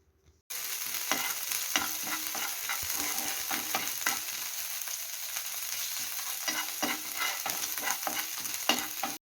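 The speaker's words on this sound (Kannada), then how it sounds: "ಶುಂಠಿ ಬೆಳ್ಳುಳ್ಳಿ ಪೇಸ್ಟು ಹಸಿ ವಾಸನೆ ಹೋಗೋವರೆಗೂ ಹುರ್ಕೊಂಡ್ರೆ ಸಾಕು." Ginger garlic paste frying with onions in oil for a simple prawns fry gives a close, even sizzle throughout, punctuated by repeated clicks and scrapes of a spatula stirring in the pan, with no voices.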